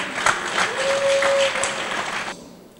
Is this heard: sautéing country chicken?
no